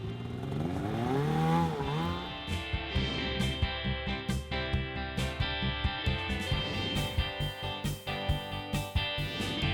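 A snowmobile engine revs up with a rising whine, then settles into a fast, rhythmic pulsing drone, loud and close.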